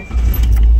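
A Hyundai Santa Fe with a missing speed-sensor signal is started up close: key jingle, then a loud engine catch and low steady rumble as it begins running.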